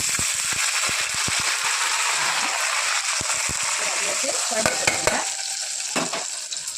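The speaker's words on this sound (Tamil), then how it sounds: "கடுகு பொறிஞ்சிச்சு பூண்டு போட்டுக்கோங்க" Garlic fries with popped mustard seeds in a hot pan, a continuous crackling sizzle with occasional stirring clinks and spoon taps throughout.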